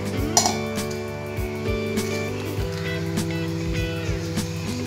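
Half a litre of milk stirred in a pot for basundi, with repeated metallic clinks and scrapes of a utensil against the pot over a steady low hum, close and continuous.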